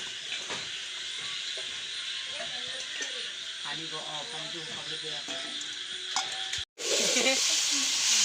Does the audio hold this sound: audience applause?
no